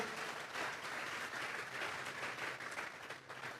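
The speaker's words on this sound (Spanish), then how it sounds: "Vamos a regalarle ofrendas de palmas al Dios de la gloria." A church congregation claps continuously, a dense, even wash of applause heard from a distance that holds steady for several seconds before easing slightly.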